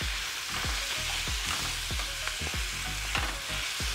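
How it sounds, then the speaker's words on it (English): Garlic and spinach sauté in a hot pan, a continuous bright sizzle broken by a regular series of soft utensil taps and stirring knocks, close and without talk. "I'm gonna add some garlic to the pan"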